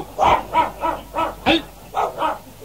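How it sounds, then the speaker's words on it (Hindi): A dog barks repeatedly, about seven sharp barks in a steady run of roughly two seconds, close and loud, with no talking over them. "सोच के भौंकता मेरे पे, सोच के भौंकता इसका सत्यानाश इस कुत्ते का"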